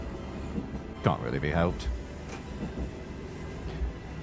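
A Japanese train running through snowy winter weather gives off a low, steady rumble throughout, with someone speaking briefly over it early on.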